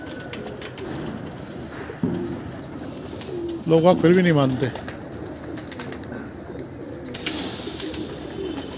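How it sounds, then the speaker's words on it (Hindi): Pigeons coo in a short burst of throaty warbling calls amid outdoor ambience, while someone speaks nearby and scattered chirps sound in the background. "लो जी ऊपर ठाटर सारे कबूतर उतर गए हैं"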